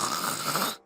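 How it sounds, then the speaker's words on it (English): A man snores loudly in a single drawn-out, rasping breath lasting under a second before it stops abruptly. "Honey, stop with the snoring. It's too loud."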